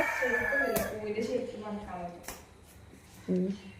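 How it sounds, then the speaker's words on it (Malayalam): A rooster crows nearby in a household yard, one drawn-out harmonic call over the first two seconds, with a short cluck-like sound near the end and quieter background noise. "ഇത് നമ്മളെ കോഴി അവിടെ പോയി കോഴി അവിടെ ഉണ്ട്"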